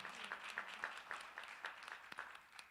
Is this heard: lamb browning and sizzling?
no